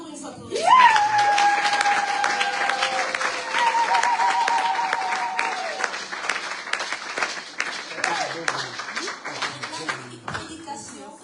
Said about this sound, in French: Acclamons encore une fois pour eux.